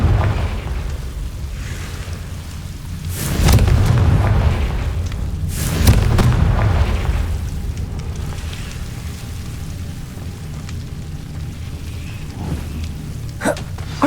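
Confringo blasting spell in the Hogwarts Legacy video game, with two heavy booming explosions a couple of seconds apart and a few sharper cracks later, all set over a low rumbling game ambience.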